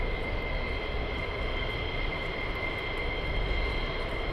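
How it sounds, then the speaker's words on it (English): F-15 fighter jet flying near RAF Lakenheath, a steady loud broadband roar of jet engine noise with a faint high whine, sustained throughout without talk. "there's an F-15. Huh, that's not an F-35, that's an F-15"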